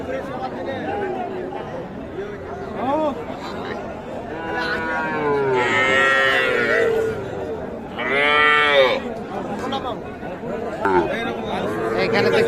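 Several cattle moo loudly and repeatedly at a livestock market amid a busy crowd of chattering people, with overlapping talk throughout.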